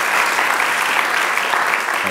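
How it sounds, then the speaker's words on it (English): Audience applause at a live conversation event with NBA player Jeremy Lin in China, a dense, steady wash of many hands clapping at even loudness for about two seconds. "I think we need to give him a few round of applause for that."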